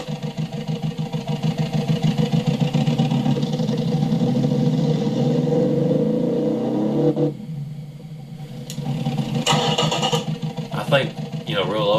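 A low, rumbling boxer-four car engine in a video game idles steadily for several seconds, then briefly drops away before revving again with uneven bursts.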